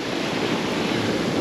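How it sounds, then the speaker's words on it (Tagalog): Strong ocean waves crash in a continuous loud roar of surf, close and wind-buffeted, with no talk. "Ang lakas ng alon dito."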